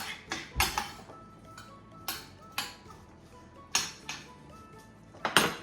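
A spoon scrapes and clinks against a pan or dish while winter vegetables seasoned with pepper, thyme and herbes de Provence are stirred for risotto, giving sharp knocks spaced irregularly over faint background hiss.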